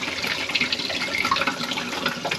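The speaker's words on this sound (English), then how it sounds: "Hear a lot of gurgling, that's normal." Water gurgles and bubbles continuously through a newly installed reverse osmosis filter just after the supply is turned on, a busy, close, steady churning of liquid with no voices.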